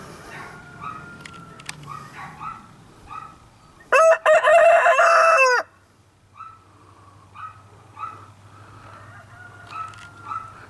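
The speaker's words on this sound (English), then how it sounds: "Him crowing back and forth with that other rooster." A rooster crows loudly and close by for a couple of seconds, answering another rooster, while softer clucking and distant fowl calls continue before and after.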